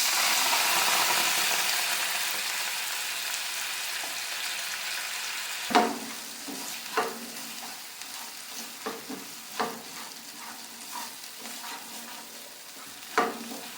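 Spice-mixed water hits frying masala in a pan for a Bengali pomfret fish curry. A loud hiss rises at once, then fades to a soft simmer broken by scattered scrapes and taps of stirring, close by with no talk.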